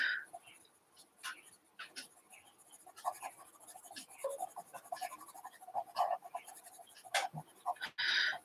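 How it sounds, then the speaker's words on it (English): Soft, steady scratching of colored pencil strokes on paper, close and quiet, with short rhythmic bursts and brief pauses between strokes. "It's that quiet, I can hear the pencils on the page."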